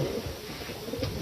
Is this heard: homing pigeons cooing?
yes